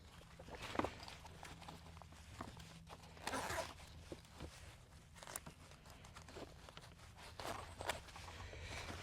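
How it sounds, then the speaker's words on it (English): A zipper on a Mustang Elite 28 inflatable is drawn up and back down to seal it, producing quiet scraping and rustling bursts alongside shuffling handling noises against a soft steady background hum. "take the zipper, come up, and then come back down to seal it again"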